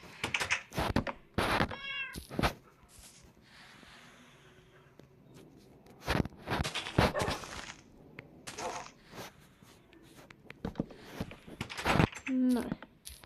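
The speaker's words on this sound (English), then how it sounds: "Oh, the cat made a really weird noise." A cat lets out several strange, wavering meows, sharp and fairly close, scattered among thumps and clicks while a person talks intermittently.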